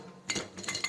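Hammer strikes on the pulley of a John Deere Z920M zero-turn mower with a hydro oil leak, three short metallic clanks in quick succession, close and fairly quiet.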